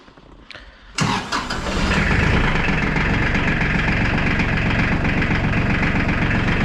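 An Iseki TLE3400 compact tractor engine cranks and catches after a brief click, then settles into a loud, steady diesel idle with a constant low rumble.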